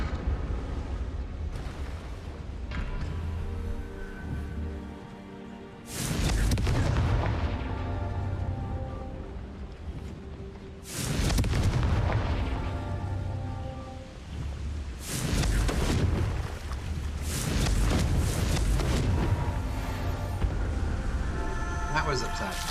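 Confringo spell explosions in a video game burst out as several loud booming blasts, spaced a few seconds apart, each swelling and then fading into a low rumble.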